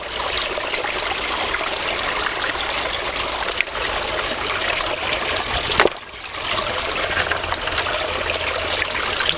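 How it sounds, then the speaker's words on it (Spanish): Water trickles and pours steadily over a stone being gently rubbed while collecting aquatic insects, a continuous close splashing flow with two brief dips. "pero es un movimiento suave y vamos echando agua"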